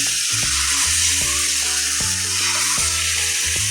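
Wheat flour dosa batter hits a hot, lightly oiled griddle and sizzles loudly and steadily throughout, with background music playing along.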